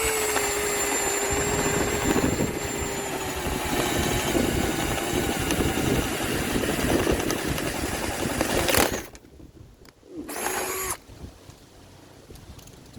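A Bauer 20 volt cordless drill drives a screw at high RPM, a loud sustained motor whine lasting about nine seconds that cuts off, then a short second burst.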